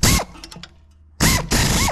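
A ratchet wrench retightens a part on a gas 1994 Club Car DS golf cart, giving loud, close, rapid clicking bursts with a short quieter pause between them.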